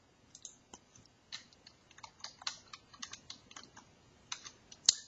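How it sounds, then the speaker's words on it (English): Typing on a computer keyboard with the tab key pressed between words: a run of light, irregular plastic key clicks, close and quiet, with one sharper tap near the end and no voices. "I'm pressing the tab key after I get done typing each keyword as my header"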